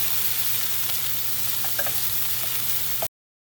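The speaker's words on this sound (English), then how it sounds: "some red onions. You want to just get that a little saute a little bit." Red onions, some of them leftover grilled, sauté in a pan over medium heat with a steady, close sizzle for about three seconds before cutting off abruptly.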